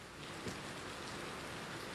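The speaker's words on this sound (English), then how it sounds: "the definition of monsoon is wind-driven rain, and that's what we've got here" Steady wind-driven monsoon rain in Hong Kong, a dense, even hiss of drops on surfaces that holds without a break throughout, with no voices.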